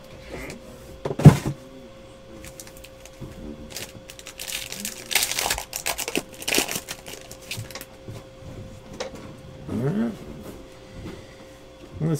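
Plastic wrapper of a 2015-16 Court Kings basketball card pack crinkling and rustling in bursts as it is torn open, with louder crackles near the start and middle, close to the mic.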